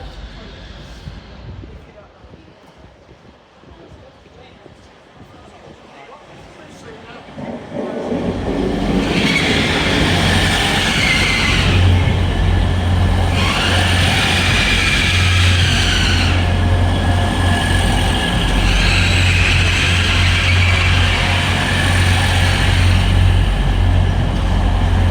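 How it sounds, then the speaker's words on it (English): A Grand Central Adelante train at York station starts quiet, then rolls in as a loud, steady rumble with rhythmic wheel noise and faint squeals, while people talk nearby. "Arrived in now is Grand Central Adelante from Tyne"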